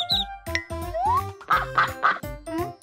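A mother duck on a cartoon farm quacks in a lively run of loud, nasal calls, some short and some drawn out, close and clear with no talk.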